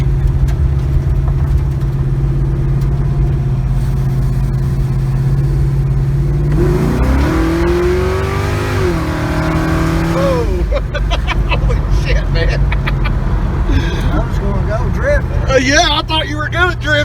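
An LS-swapped Chevy Nova with a 3200 stall converter accelerating hard from inside the cabin, a steady engine drone rising in pitch as revs climb, then a shift and continued pull, with people talking over it.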